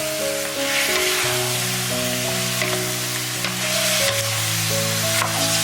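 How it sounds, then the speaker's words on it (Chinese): Chicken pieces stir-fried in a wok with Sichuan peppercorns and light soy sauce, a loud continuous close sizzle with stirring scrapes, under sustained background music and no talking. "再给它翻拌均匀"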